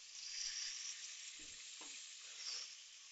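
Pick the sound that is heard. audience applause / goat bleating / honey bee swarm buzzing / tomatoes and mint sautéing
tomatoes and mint sautéing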